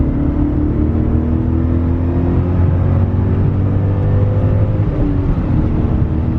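A BMW M5 pulls hard in third gear from the driver's seat, its engine note climbing steadily in pitch as it accelerates, loud and close, then easing off near the end with no talk over it.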